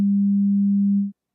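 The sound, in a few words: pure sine wave tone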